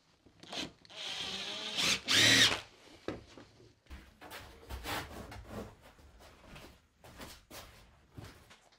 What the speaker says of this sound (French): Il va me rester à mettre une vis dans chaque lame pour un bon maintien.